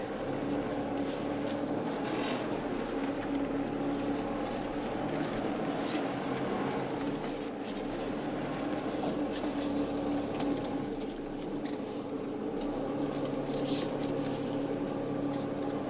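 A diesel 4x4 off-road vehicle idles and creeps in low range during off-road training, a steady low rumbling drone with slight throttle swells and faint clunks, close and continuous.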